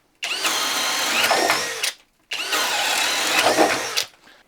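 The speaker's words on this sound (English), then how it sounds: "All right, there's some drilling." A Flex compact cordless drill runs in two bursts of about two seconds each, with a loud, steady high-pitched motor whine and a short pause between them, heard alone at close range.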